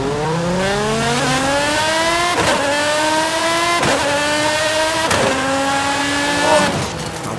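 A Lamborghini Essenza SCV12 in Forza Horizon 5 revs hard and loud, its V12 howl climbing through repeated gear shifts with brief dips between each upward sweep, close and alone with no voices.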